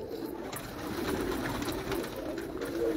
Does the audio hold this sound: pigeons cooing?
yes